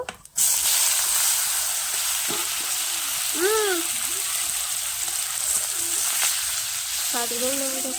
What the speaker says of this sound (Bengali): কড়াইটা গরম হয়ে গেছে, জলটা নিয়ে গেল, আবার ধরে গেল। তো এখন আমি মাছ ঢেলে দেব।